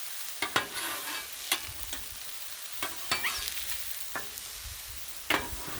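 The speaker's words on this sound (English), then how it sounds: "Love the smell of those shrooms on the griddle with butter." Mushrooms fry in butter on a griddle, a soft, quiet sizzle punctuated by scattered sharp taps and scrapes of a spatula working the metal surface.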